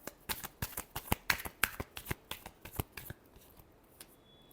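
Tarot cards shuffled by hand in a rapid series of sharp, close flicks and snaps that trail off toward the end.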